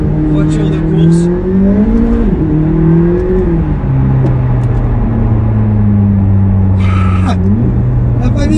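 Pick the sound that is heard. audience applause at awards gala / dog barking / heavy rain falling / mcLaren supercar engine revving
mcLaren supercar engine revving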